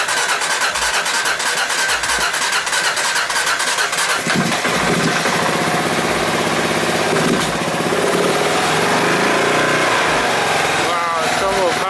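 A Kawasaki KLR650 motorcycle with new carburetors cranks and fires up, then settles into a loud, rough, steady idle close by; a person speaks briefly over the engine.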